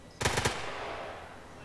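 A quick burst of three or four rapid gunshots, machine-gun style fire in a video game, sharp and fairly close, followed by a fading ring into quiet.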